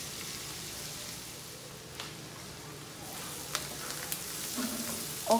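Onion and garlic fry in a pan for lamb chops, giving a quiet, steady sizzle with a few sharper crackles and pops toward the end.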